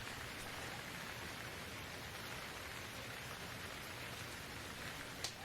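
Rain falls in the survival video game Stranded Deep as a steady, even hiss with no breaks, moderately faint throughout.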